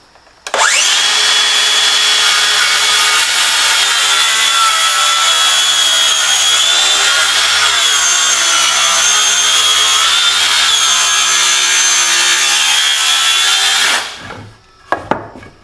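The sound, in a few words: saw ripping a 1-inch wooden board down the center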